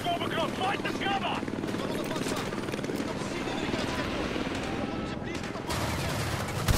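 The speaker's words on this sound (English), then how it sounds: "Attack Heli 12 o'clock!" An attack helicopter thunders steadily overhead during a Modern Warfare 2 firefight, its rotor drone loud and continuous, with gunfire crackling and popping throughout.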